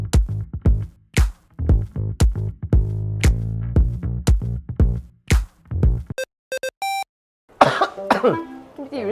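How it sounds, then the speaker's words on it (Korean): A run of repeated loud coughs, close and harsh, then a brief series of electronic beeps and a final rough cough. "이렇게 기침 많이 해요?"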